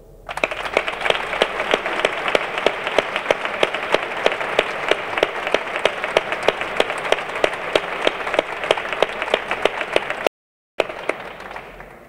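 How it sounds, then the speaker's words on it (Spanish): An audience at a saeta exaltation event of a Holy Week brotherhood claps steadily in dense, rhythmic applause for a long stretch, loud and close, broken by a short silent gap before it resumes more faintly. "este aplauso es para ustedes."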